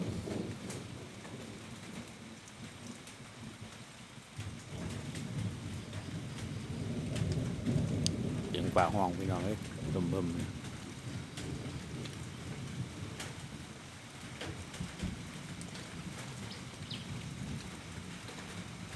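Steady rain falls with a low rumble of thunder swelling in the middle; a voice speaks faintly under the storm.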